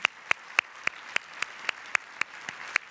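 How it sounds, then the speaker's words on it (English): Scattered clapping at an MLK Day program, about a dozen sharp claps spaced at a steady, slightly slow rhythm, like a small group applauding politely. "Let's give her another applause."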